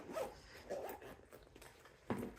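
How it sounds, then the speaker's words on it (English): A zipper on a sewn phone wallet purse with two zippers is pulled in a few short, close rasping strokes with brief pauses between them, quiet and without talk. "now let's try how it zips up"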